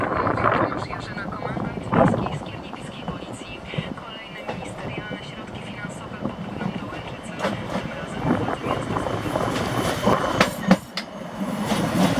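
A train rumbles and clatters through Łowicz Główny station, with a continuous loud rolling of wheels on track and occasional sharp knocks, while a voice is heard speaking under the noise.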